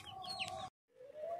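Chickens kept with goats in a shared shed at home cluck softly in two short bursts with a brief gap, fairly faint and with no speech.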